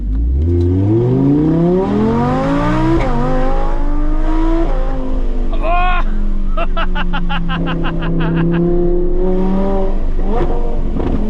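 An Audi R8 V10 Plus V10 screams up through the revs on an alpine drive, then downshifts with rapid exhaust crackles and pops, very loud and close from the cabin, with a brief excited exclamation.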